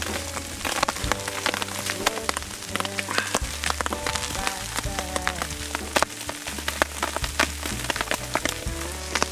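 Hailstorm in the Utah mountains, hailstones hitting hard in a dense crackling rush of sharp clicks and taps, close by, with a low tonal hum beneath and no talk.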